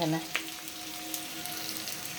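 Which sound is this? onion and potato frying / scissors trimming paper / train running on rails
onion and potato frying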